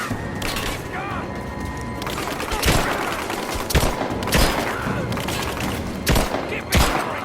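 Enemy covering fire in the video game Rise of the Tomb Raider: repeated loud bursts of gunshots and booms spaced irregularly through a busy combat soundscape, with shouting voices over the top.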